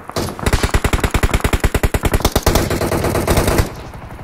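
Rapid automatic gunfire in the mobile battle royale game PUBG Mobile, a loud, close burst of evenly spaced shots lasting about three seconds before cutting off.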